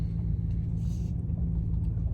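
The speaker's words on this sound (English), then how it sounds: "I have not driven my truck in a hot minute." A high-mileage pickup truck with 210,000 miles drives along, its low engine rumble and road noise steady and close from inside the cab, with no speech.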